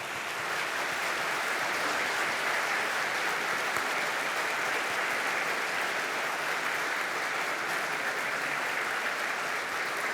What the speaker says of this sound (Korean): 우리 박수로 우리 인사드리도록 하겠습니다